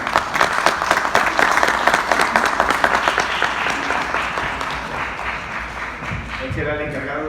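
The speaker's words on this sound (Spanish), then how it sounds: "pido un aplauso" A book presentation audience breaks into applause, loud, close clapping with distinct individual claps that thin out and soften toward the end as a voice starts speaking.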